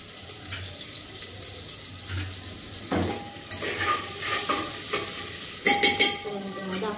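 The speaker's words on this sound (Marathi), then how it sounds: "टाकणार कांदा, कांदा भाजू द्यायचा पूर्ण लाल होऊ द्यायचा कांदा" Onion fries in a pan for biryani, cooked until browned, a soft sizzle under repeated scraping and stirring strokes that grow busier and louder toward the end.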